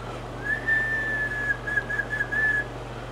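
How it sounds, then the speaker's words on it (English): A Maco 200 linear amplifier running one driving three 8950 tubes into a dummy load gives off a thin, steady high whistle when keyed, lasting about two seconds and wavering slightly in level. "Close to 100 watts, and I think it whistles about the same."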